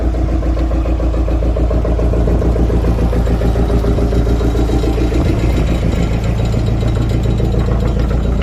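A boat engine chugs steadily on a Sundarbans river, a loud, close, continuous low throbbing drone with no pauses and no voices.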